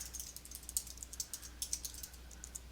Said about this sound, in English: I like to type the close tags as soon as I type the open tags